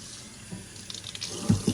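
Tap water splashes against a silicone sink splash guard, a steady running hiss with wet splatters and a couple of soft thuds near the end, close and alone.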